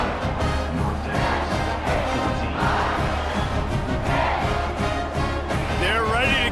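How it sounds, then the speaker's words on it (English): A football stadium crowd buzzes after a score, a dense, steady roar of many voices throughout, with a commentator talking over it. "this crowd is buzzing after that last score"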